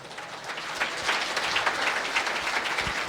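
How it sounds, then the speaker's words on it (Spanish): A church congregation applauds, with a steady wash of many hands clapping at moderate volume that builds slightly and holds, with no voices over it. "Fuerte aplausos"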